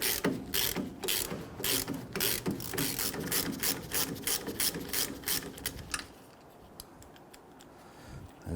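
A ratchet clicks rapidly and steadily while loosening the lower rear caliper bracket bolt on a Nissan Frontier, sharp close ticks for about six seconds before stopping abruptly into quiet.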